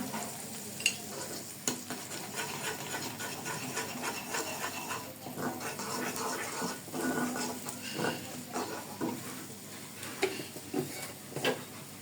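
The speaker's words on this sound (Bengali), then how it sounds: "এখন মশলাটা আমি সুন্দরভাবে কষিয়ে নিচ্ছি" Spices with salt and chili powder being sautéed in a pan, a steady soft sizzle with intermittent spatula scrapes and stirring, quiet and close with no voices.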